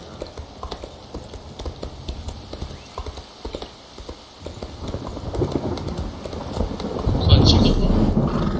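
Horse hooves clip-clop steadily while riding in The Elder Scrolls Online, a rhythmic trot under continuous game ambience, with a soft whinny and rising wind-like noise near the end.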